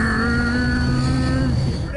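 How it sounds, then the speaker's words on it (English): A car engine runs at a steady low drone with a whining tonal hum, close and continuous for a couple of seconds, on a solo overland trip through Central Asia. "Sounds like the Batmobile, this car."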